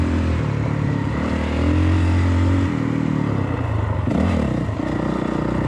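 A dirt motorcycle ridden on a rough track, heavier-feeling than a KTM, holds a steady, close engine drone with shifting revs and a brief throttle change partway through.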